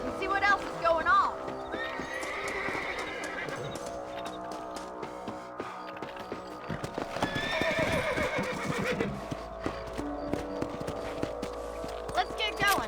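Horse hooves clip-clop at a steady walking rhythm in the Western video game Red Dead Redemption, with a horse neighing and whinnying, under ongoing character speech and background game music.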